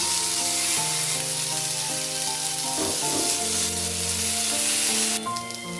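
Washed, drained poha (flattened rice) sizzles steadily in a pan for poha pulao, a continuous close frying hiss with background tones, the sizzle dropping away near the end.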